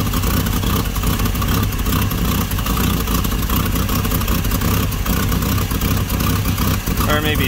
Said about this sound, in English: She's idling for now.